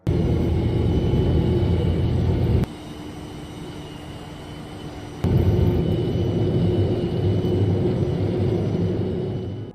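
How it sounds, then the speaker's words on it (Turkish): Both engines of a Boeing 737-400 run at full power as it speeds down the runway, a steady loud roar and rumble that drops and then surges back up before slowly fading. "45 milyon dolara satın aldığı Boeing 737-400'ün her iki motoruna da tam güç vererek pistte ivme kazanmaya başladılar"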